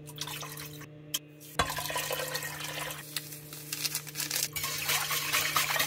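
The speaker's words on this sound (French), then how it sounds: "Donc là, je mets tout mon liquide que je disais tantôt." Liquid broth poured into a cooking pot, a steady splashing pour with drips running for several seconds, fairly close and loud, with no talking.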